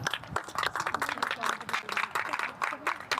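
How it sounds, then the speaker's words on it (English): Scattered clapping at the final of a women's league match, sparse and uneven, with voices talking over it. "Big hand of applause, everybody."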